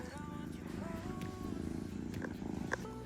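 A house cat purring close by in a quiet domestic room, a soft, steady rumbling buzz throughout, with faint human vocal sounds and a brief higher noise near the end.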